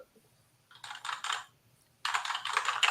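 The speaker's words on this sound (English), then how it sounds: "I like love using this computer because of this keyboard. It is so good." Bursts of rapid clicking keystrokes on a computer keyboard, two short runs and then a longer, denser flurry, close and fairly loud over a quiet room.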